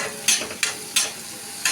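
Vegetables sauté in a pan for Maggi noodles, a steady sizzle broken by four sharp scraping strokes of a spoon stirring at roughly even intervals, close and fairly loud with no talking.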